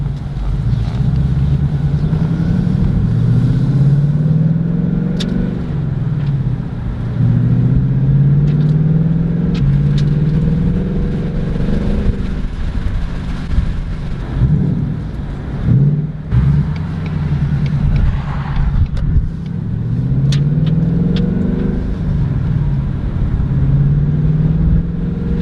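A Ford Mustang GT engine heard from inside the cabin gives a loud, continuous low rumble that rises and falls with gentle revving and cruising, with no talking.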